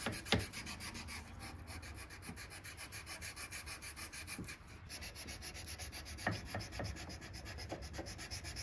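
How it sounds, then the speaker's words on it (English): Hand sanding a forged chef's knife blade with 400 grit sandpaper on a flat backer produces a steady, quiet back-and-forth rasp in even strokes, broken by a few small taps and clicks, close up and without speech. "I can start hand sanding. I'm going to start with some 400 grit."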